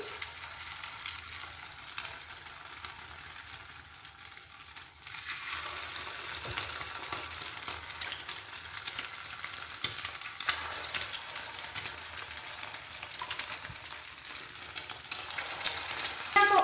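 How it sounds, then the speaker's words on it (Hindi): Egg-dipped shami tikkis fry in hot oil on a tawa, a steady, fairly quiet sizzle with faint crackles that swell slightly toward the end, no voices. "इसके बाद इसमें हम अंडे में इस तरह से डीप करके इसको तमाम टिक्कियों को हम फ्राई कर लेंगे"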